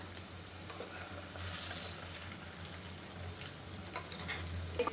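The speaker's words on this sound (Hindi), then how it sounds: "इन्हें हम ब्राउन होने तक अच्छे से फ्राई कर लें।" Lauki kofta balls frying in hot oil, a steady dense sizzle that holds at an even level throughout, close and alone, with a couple of faint clicks near the end.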